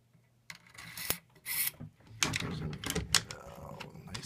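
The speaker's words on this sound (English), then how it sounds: "So you get the bolt carrier in there, and then your recoil spring." A bolt carrier and recoil spring go into a Century RAS 47 AK rifle: quiet metallic scraping, sliding and a few sharp clicks, close and intermittent, with no talking.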